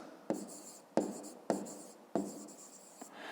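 A pen writes out a fifth-grade math solution on paper, heard as four or five close, quiet strokes, each a sharp scratch that fades quickly, in an otherwise silent room.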